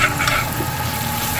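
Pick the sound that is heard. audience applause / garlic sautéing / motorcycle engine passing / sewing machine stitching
garlic sautéing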